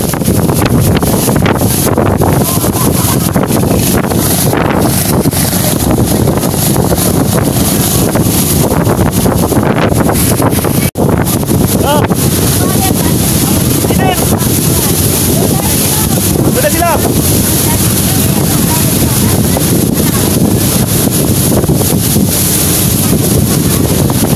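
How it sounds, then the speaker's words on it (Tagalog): Strong wind buffets the microphone in a loud, constant roar, with sea water and boat noise underneath during a fiesta sea parade, and a voice faintly heard through it. "Pasensya na kayo kasi malakas ang hangin."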